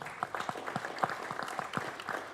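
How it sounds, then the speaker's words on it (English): Applause at a school board meeting, a modest group clapping steadily for a couple of seconds in a room, moderately quiet and on its own. "Let's give her a round of applause."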